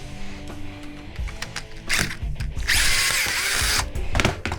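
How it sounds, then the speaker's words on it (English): A power drill backs corner screws out of an aluminum shower door frame, with short whirring bursts followed by a long sustained high-pitched spin, close and loud, with a few clicks and handling knocks between runs. "Let's get the darn corner screws out first."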